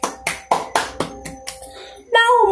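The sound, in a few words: applause for the school festival winners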